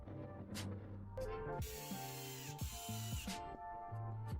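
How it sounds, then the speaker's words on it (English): A power screwdriver drives screws into a DeLonghi espresso machine under repair for a water leak, giving several short whirring bursts with ratcheting clicks between them, close and fairly loud. "Now the screws go in here."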